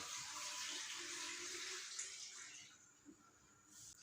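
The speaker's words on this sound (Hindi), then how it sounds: "पानी इतना डालना है आपके पाए अच्छी तरह जो है ना डूब जाए।" Water gushes steadily into a cooking pot holding beef trotters, a continuous pouring rush that stops abruptly partway through, followed by a faint clunk and quiet.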